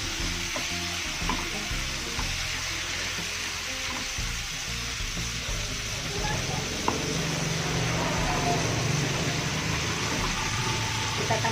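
Salted fish is stirred and fried in a pan, with a steady, close sizzle that builds slightly louder over time, broken by faint scrapes and taps.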